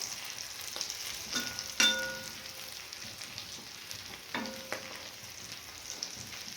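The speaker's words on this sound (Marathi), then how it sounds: "आता आपण दुसरी बाजू व्यवस्थित भाजून घ्यायची आहे" Stuffed green chillies pan-roasting on their second side give a soft, steady sizzle, broken by a few sharp metallic clinks and scrapes from a utensil. Close and fairly quiet, with no talking.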